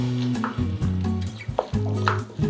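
Mushrooms with a few sesame seeds being stirred in a pan after the gas is turned off, giving short scraping and clinking strokes over a steady tonal hum, moderately loud and without talk.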